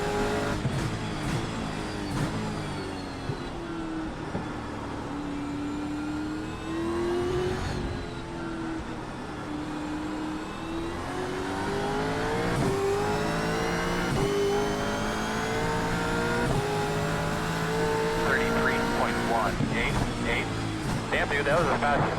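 A Gen 3 Supercar races a fast lap in the iRacing sim, its engine note rising and falling steadily through gear changes and revs, with occasional tyre squeal, while a person talks over it.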